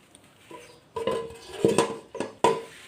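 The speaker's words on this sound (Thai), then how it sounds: "ก็จะมาหยิบกระทะกันเลยค่ะ นี่เราจะเป็นกระทะตัวนี้" Metal cookware clanks and scrapes in a few distinct knocks, close by, as a frying pan is handled and lifted in a kitchen, with no talking.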